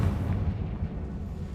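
A Confringo fire spell explodes in the video game Hogwarts Legacy, a deep, rumbling blast that stays heavy and boomy throughout the short moment, with no voice over it.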